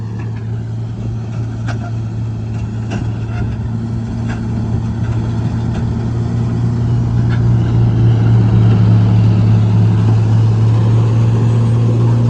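A John Deere 5055E tractor working in a low gear with a Channy 64-inch straw reaper, its engine a steady, loud drone that builds slightly in the second half, with no talk.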